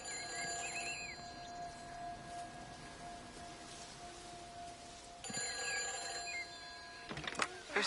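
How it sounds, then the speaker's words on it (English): A telephone rings inside a PlayStation 4 video game, repeated bursts of ringing sounding over a steady hum of background game ambience, moderately loud with a break in the middle. "Phone's ringing."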